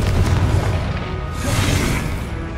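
A Confringo fire spell explodes in the video game Hogwarts Legacy as a loud, close burst with a deep rumbling boom that rolls on and fades over about two seconds.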